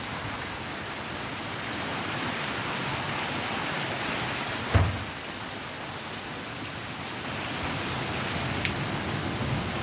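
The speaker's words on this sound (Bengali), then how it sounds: "এত ঝড় বৃষ্টি হচ্ছে," Heavy rain falls at night during a Kalbaishakhi storm in Sylhet, a dense, constant hiss of downpour with one brief thud midway and no voices.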